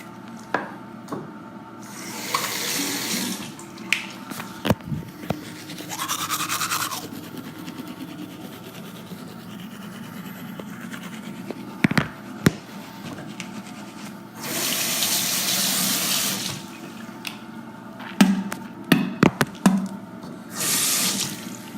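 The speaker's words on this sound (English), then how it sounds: "you wet your toothbrush, put the toothpaste on it, brush your teeth, rinse the toothbrush off, spit" Teeth brushed at a bathroom sink: the tap runs in several separate bursts for wetting and rinsing, with brushing scrubs and short splashes between them and no talking.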